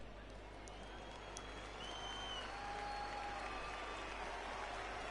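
A ballpark crowd in MLB The Show 19 sends up a broad, steady wash of cheering and applause on a full count, fairly faint and continuous, with a few whistles and tones over it.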